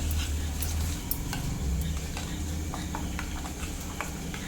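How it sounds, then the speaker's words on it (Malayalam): A spoon stirs coconut milk with rice flour in a bowl, making soft, irregular clicking and tapping against the sides over a low steady hum, with no talk. "കട്ടകളൊന്നും ഇല്ലാതെ മിക്സ് ആക്കണം"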